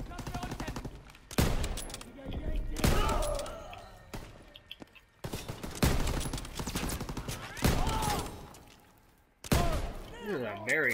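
Game gunfire from a World War II D-Day beach landing in Call of Duty: WW2 comes in bursts of heavy automatic fire and booming shots, separated by short lulls, with battlefield clatter and voices mixed in.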